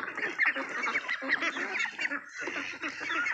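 A female goose on a duck farm honking in a rapid run of close, nasal calls with short gaps between them.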